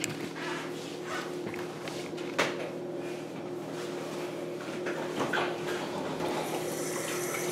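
Steady rush of hot water running from a tap, close and continuous, with a couple of faint knocks and clatters in the background.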